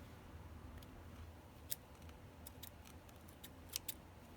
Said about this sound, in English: And then I'm gonna cut off my extra thread.